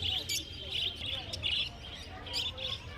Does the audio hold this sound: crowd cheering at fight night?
no